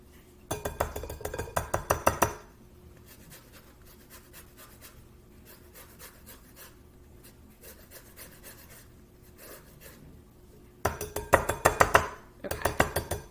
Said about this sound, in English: So I'm gonna take my zester and just take the orange and